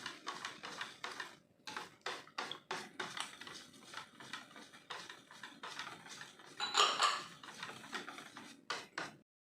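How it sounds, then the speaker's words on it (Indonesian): A utensil scrapes and clinks rhythmically against a bowl while stirring risoles batter with cooking oil, repeated quick strokes with short pauses, close and fairly quiet, with no talking. "Sambil kita aduk."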